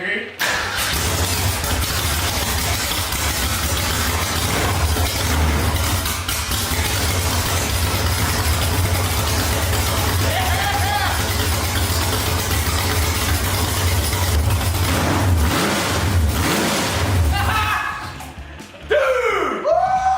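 A car engine is cranked to life, then idles and revs in a loud, steady growl that swells near the end, with excited voices talking over it.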